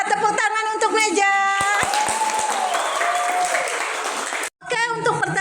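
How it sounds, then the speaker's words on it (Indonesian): A short burst of classroom applause rises under a teacher's speech, a brief flurry of clapping amid talking that stops abruptly before speech resumes. "Tepuk tangan untuk Meja."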